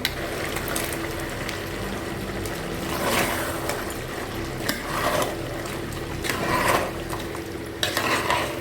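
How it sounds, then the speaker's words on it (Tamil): Ground masala sautéing in a pan for a country chicken gravy (nattu kozhi kulambu), with steady soft frying and repeated scraping stirs of a spoon against the pan, loudest around the middle and near the end. "இப்போ நம்ம அரைச்சி வச்சுருக்கிற இந்த மசாலையை சேர்த்துக்கலாம்."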